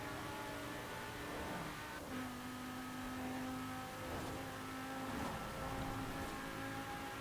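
A 2015 Porsche Cayman GTS engine accelerates on a motorway in Forza Horizon 4, a sustained rising engine whine with gear shifts rising and falling, fairly quiet and continuous without talk.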